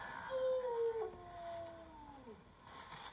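A single dog gives a long, wavering howl that slides downward in pitch, clear and moderately close against a quiet background.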